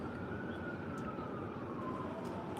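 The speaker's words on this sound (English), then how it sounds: "There go the sirens." A distant siren wails steadily, its pitch slowly gliding down, under a constant background hum.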